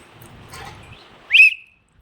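A single sharp, loud whistle blast cuts in briefly during a children's colour-calling game at a summer camp, after a stretch of quiet rustling.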